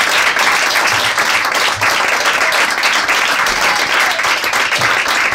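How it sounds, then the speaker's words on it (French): A live comedy audience gives sustained, loud applause for comedian Greg Romano, with dense, even clapping that fills the room from start to finish. "J'aimerais qu'on l'applaudisse très fort"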